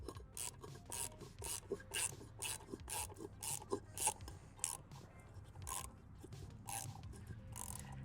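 A Tesla Cybertruck center cap being screwed on clockwise, giving a steady run of close, quiet rasping and scraping strokes in a regular rhythm, with no talking.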